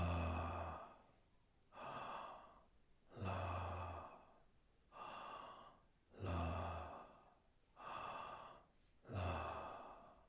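Deep, slow breaths during a guided meditation come in seven even, airy whooshes a little over a second apart, close and quiet, with no talk over them.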